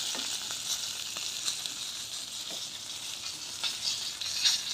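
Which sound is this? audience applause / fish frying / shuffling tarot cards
fish frying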